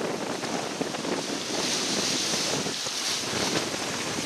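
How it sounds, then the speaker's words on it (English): Strong wind and big waves at sea in the Windward Passage aboard the sailboat Prince Diamond: constant roaring wind buffets the microphone over rushing, surging water, loud and unbroken throughout. "Lots of big winds today, big waves."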